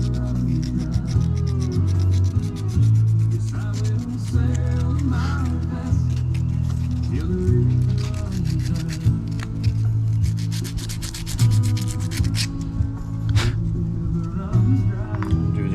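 Shimmed fuel injector parts are deburred by hand with quick, close rubbing and scraping strokes in an irregular rhythm, loud and gritty with a low hum beneath.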